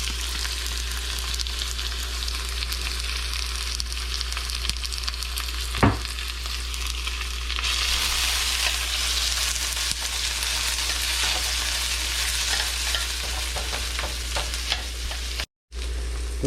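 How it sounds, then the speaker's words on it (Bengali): Onion and garlic fry in a pan for a broccoli chicken stir-fry, giving a steady close sizzle that swells louder partway through, with a low electrical hum underneath, a brief clink, and no voices. "অনিয়নটা গার্লিকটা দিয়ে দিচ্ছি।"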